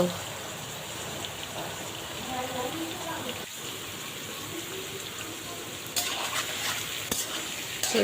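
Vegetables fry in a pan with a little salt, giving a steady, close hiss and crackle of sizzling. A voice is faintly present in the background.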